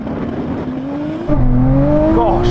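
A Nissan GT-R, a Porsche 911 Turbo S and a rallycross car launch together in a drag race, engines roaring loud and close with a sharp jump in volume and rising revs as they pull away.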